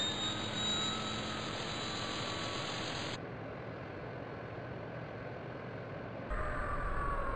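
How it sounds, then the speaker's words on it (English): Jet airliner engines spooling up at startup before taxi, a loud steady roaring hiss close by that shifts in tone partway through and continues without any talk. "Ground, request startup. Startup approved."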